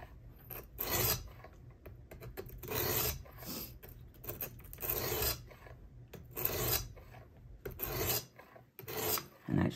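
Repeated rasping strokes of a blade drawn across an abrasive stone on a Worksharp Professional Precision Adjust knife sharpener, coming in steady bursts with brief pauses between passes, close and fairly loud with no talking.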